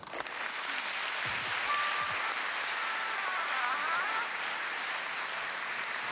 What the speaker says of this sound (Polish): Poprosimy o brawa.